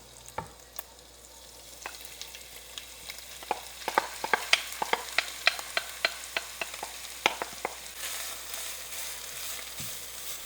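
Food frying gently in a pan over low gas flame, a steady soft sizzle broken by a cluster of sharp clicks and taps of stirring in the middle, close and alone with no voices.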